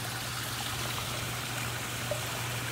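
A backyard pond waterfall spills over slate in a steady, continuous rush of trickling water, close and even throughout, with no voices.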